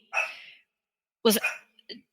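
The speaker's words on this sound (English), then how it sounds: "I just heard my little dog barking." A small dog gives two or three short, sharp barks, close by and separated by brief pauses, with no other sound around them.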